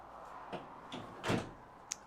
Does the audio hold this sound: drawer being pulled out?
yes